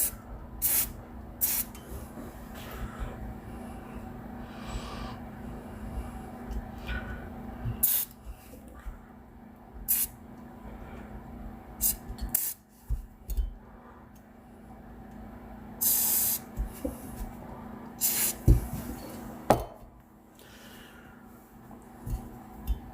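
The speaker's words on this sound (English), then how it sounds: "I'm going to use this liquid wrench. I like the dry lube better." Liquid Wrench dry lube is sprayed onto a TC Compass 300 Win Mag rifle in several short, close hissing bursts separated by pauses, over a faint steady background hum.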